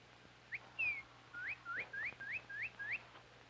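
Morning birdsong at a woodland camp: a single bird gives a series of clear rising whistled chirps in steady rhythm, fairly faint against a quiet background hum.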